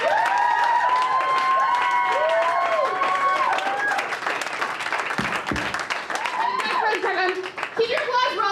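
Live comedy show audience in Omaha applauding and clapping steadily, a dense crowd patter with cheering, under a host's amplified voice and whistle-like tones across the whole stretch.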